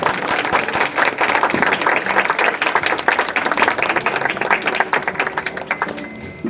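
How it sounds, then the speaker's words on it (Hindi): A church worship audience claps loudly and steadily for a preacher, dense rapid hand claps filling several seconds before easing slightly at the end. "आए जोर से ताली बजा के परमेश्वर के दास को"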